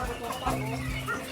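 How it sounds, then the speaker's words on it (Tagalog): Farmyard chickens cluck softly in short, close bursts, mixed with other farm fowl, while people talk nearby. "Tapos ito yung mga manok."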